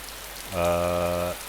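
Steady rain hiss falls in the DayZ survival game, joined midway by a brief steady humming tone that lasts under a second before the rain continues alone.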